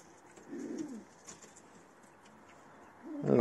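Ornamental pigeons on a nest with their young coo softly, with a low rolling call early on and a fainter one after. Quiet room tone fills the gaps, and a brief louder rustle comes at the end.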